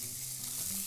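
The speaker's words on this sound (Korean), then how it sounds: "자, 이제 참기름을 좀 넣어주고요. 마늘과 파를 볶아줍니다." Steady close sizzle of garlic and green onion stir-frying in sesame oil, a continuous even hiss with a faint low hum underneath and no talking.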